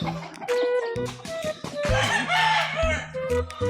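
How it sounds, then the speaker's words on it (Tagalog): A large gamefowl rooster crows nearby at a breeder's yard, amid a busy barnyard with clucking fowl and other birds calling over one another. "Ang laking manok oh."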